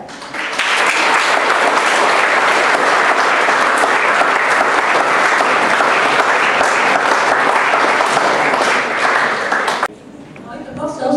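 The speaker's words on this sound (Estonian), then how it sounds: "Suur aplaus neile!" Loud, sustained applause from a school audience at a graduation-season class celebration, dense clapping filling the room for about ten seconds before cutting off abruptly into quieter room sound.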